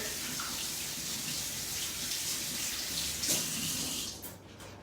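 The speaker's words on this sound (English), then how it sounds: "So, wash your hands real quick." Tap water runs steadily from a faucet into a sink during hand washing in a home kitchen, a continuous close hiss that tails off as the flow is shut near the end.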